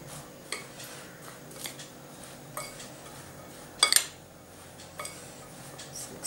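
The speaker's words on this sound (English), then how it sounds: "Now combine all these ingredients in a bowl." Corn flour, salt and maida are mixed in a bowl, with sparse light scrapes and clinks of a utensil against the bowl and one louder clatter midway, close by in a quiet room.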